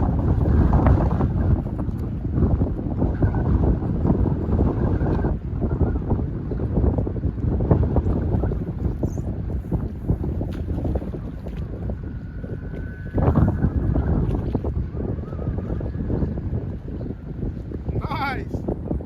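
Strong wind of over 22 mph roars across the microphone while fishing from a boat, a loud, constant blustery rumble with brief thumps and small clicks from handling gear.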